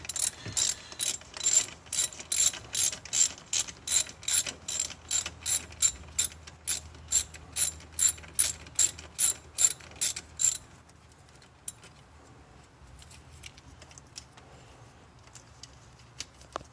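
Ratchet clicking steadily in quick repeated bursts while a thermostat housing bolt is backed out on a 2013 Jeep Grand Cherokee WK2, close and loud for about ten seconds before falling to quiet shop background.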